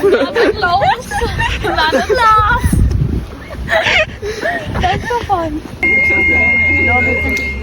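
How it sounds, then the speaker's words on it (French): A steady electronic fire alarm tone starts partway through, sounding under loud, lively chatter and laughter from several people nearby. "on a l'alarme incendie pour la deuxième fois depuis qu'on est arrivé"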